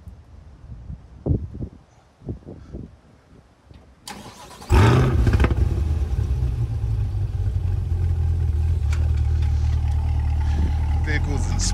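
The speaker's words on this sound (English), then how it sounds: "Cold start." A C8 Corvette cold starts with a sudden loud crank and roar. The engine then settles into a steady, deep, close idle after a few seconds of quieter handling noises and soft voices.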